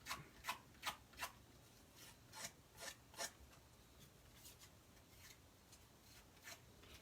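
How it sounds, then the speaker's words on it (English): Scissors scraping along the edges of Shaded Spruce paper, making a soft, rhythmic rasping, about a dozen short strokes in steady succession, close but quiet. "I'm going to take my scissor. And scrape that up."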